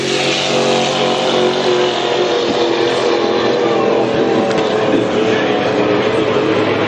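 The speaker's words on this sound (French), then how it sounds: "C'est celui dont le moteur 350 a le mieux répondu jusqu'à maintenant." A Hydro 350 class hydroplane racing boat with a 350 engine during a heat at Valleyfield, a loud, steady, continuous engine roar and spray filling the whole stretch without letup.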